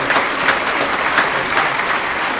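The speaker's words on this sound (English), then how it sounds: "round of applause" Loud, close applause from a studio audience on a comedy advice show, a continuous dense patter of many hands clapping with no voices.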